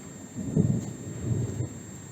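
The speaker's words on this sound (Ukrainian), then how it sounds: "Знов дощ і знову гримить." Low distant thunder rumbles during rain, swelling and fading with steady rainfall hiss above it, no voices.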